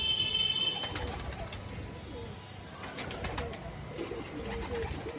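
A short-bodied female pigeon with a closed, short tail coos in low, rolling throaty phrases, close by against a steady outdoor background.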